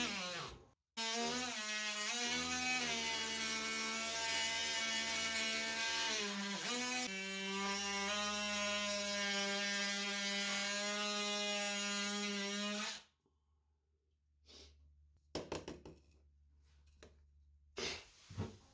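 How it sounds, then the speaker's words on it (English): An oscillating tool cuts 2-inch PVC pipe to length with a loud, steady buzzing whine for about twelve seconds, then stops, followed by a few soft handling knocks. "I begin by cutting 2-inch pipes to length using my oscillating tool"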